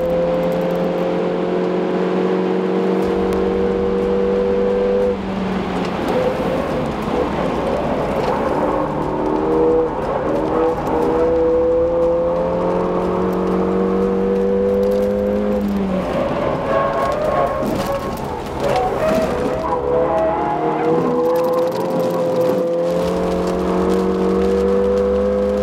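A Ford Fiesta ST is driven hard in hot laps on a race track, its engine revving up and down through the gears in repeated rising and falling whines with tyre and wind roar, loud and close, no talk.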